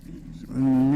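A Honda CBR600RR motorcycle engine pulls away in first gear, its tone rising into a loud, steady rev after a brief low idle, close to the microphone.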